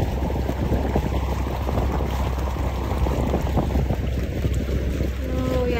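A small boat moves across open water in steady wind, with a constant broadband rush of wind noise buffeting the microphone and low water wash underneath, no talk.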